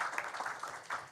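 Applause from a press-conference audience at the Filmfare Awards 2024 event, a steady patter of many hands clapping throughout, moderately loud with no talk over it.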